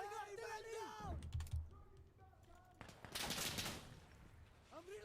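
Gunfire in Insurgency Sandstorm comes in short bursts of shots amid game noise, with voices shouting over the action.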